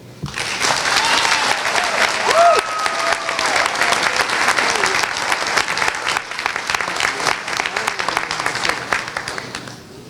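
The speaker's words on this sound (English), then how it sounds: "Let's all give a round of applause for our hardworking graduates and the support systems that have helped make this day possible." Sustained crowd applause for graduates at a 2021 university commencement ceremony, loud and continuous for the full stretch, with scattered cheers and voices rising through it.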